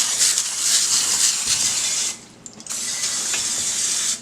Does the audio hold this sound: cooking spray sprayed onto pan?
yes